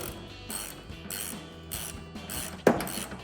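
A ratchet clicks repeatedly in short bursts while tightening the top bolts on a 2007-2014 Chevrolet Silverado 2500 factory-style clear-lens headlight, close up, ending in a sharp knock.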